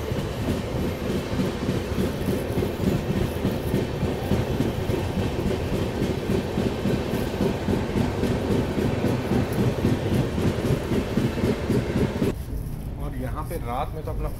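Ashram Express running between Delhi and Ahmedabad, heard from inside a first AC coach: a loud, steady rumble with rhythmic wheel clatter throughout, suddenly dropping to a quieter, duller hum near the end.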